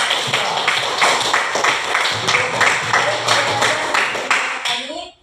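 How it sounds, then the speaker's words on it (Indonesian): Schoolchildren in a classroom clapping for a group, sustained crowded applause with some chatter underneath, carrying on for several seconds and stopping abruptly at the end. "kasih dulu tepuk tangan untuk kelompok"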